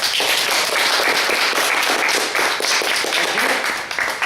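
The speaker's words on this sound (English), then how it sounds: "please applause" A class audience applauds in favor of a student's argument, a dense, steady wash of many hands clapping close and loud throughout, without talk.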